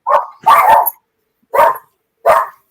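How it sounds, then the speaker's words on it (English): A dog barks close by in four loud, sharp bursts, two quick ones together and then two spaced apart, with no talk over them. "We let the dog out."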